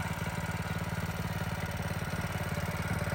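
A custom mini street bike with a stock 212 engine and the governor removed idles steadily, giving a close, even, pulsing chug with a fast, regular rhythm.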